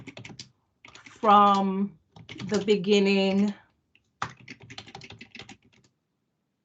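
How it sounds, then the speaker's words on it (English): Keys clatter on a computer keyboard in quick, uneven bursts of clicks under and between a person's voice, close and fairly clear. "my computer is like typing slow and my keyboard is not keeping up"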